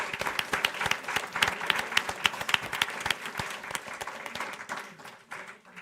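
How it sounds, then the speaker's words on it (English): A live audience at a school board candidates forum applauds the candidates, a dense patter of many hands clapping steadily for several seconds before thinning out near the end. "So let's give all the candidates a round of applause"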